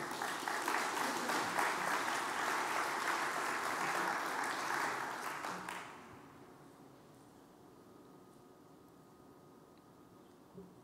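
Sustained applause from a conference audience after live augmented-reality demos at DrupalCon Vienna 2017, a dense wash of clapping lasting about six seconds before fading to quiet room tone.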